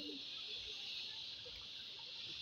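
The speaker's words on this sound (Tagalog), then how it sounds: "Malakas yung tubig" Strong tap water runs steadily in a rural home kitchen where frogs are being cleaned for cooking, a close, continuous hiss with no talk over it.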